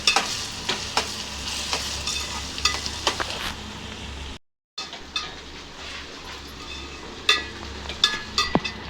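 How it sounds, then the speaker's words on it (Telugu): Onions sauté in a pan for prawn gongura curry, a continuous sizzle broken by sharp clicks and scrapes of stirring and one brief moment of silence, close and fairly loud. "ఉల్లిపాయ అయితే మగ్గిపోయిందండి"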